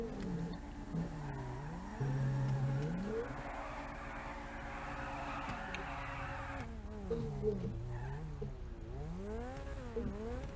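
Car drifting and skidding at a rowdy car meet, with rising and falling tire squeal and engine revving sweeping up and down over steady background rumble throughout.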